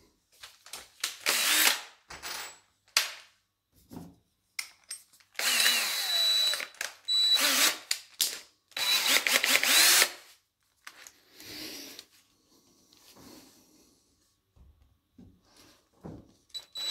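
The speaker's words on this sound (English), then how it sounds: "I'm going to go ahead and drill that halfway through from this side using that Forstner bit." Power drill boring halfway into wood with a Forstner bit while fitting a VUK into a Bally Radical prototype pinball playfield, heard in several loud bursts of a few seconds each, separated by short pauses and small handling clicks.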